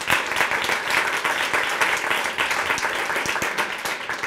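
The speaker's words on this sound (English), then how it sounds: "Let's give them a round of applause for" An audience at a mayoral announcement in a school building in New York breaks into steady, dense applause, many hands clapping loudly and continuously without talk.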